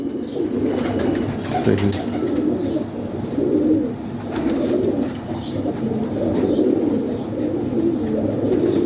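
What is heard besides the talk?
pigeons cooing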